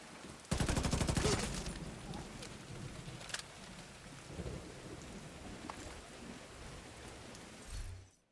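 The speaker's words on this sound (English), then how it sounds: "Rainstorms instead of snow" Rainstorm with thunder in The Division 2 game: a sharp, loud crack of thunder bursts early and rolls off into a long rumble over constant heavy rain, with a few softer rumbles later before a final swell.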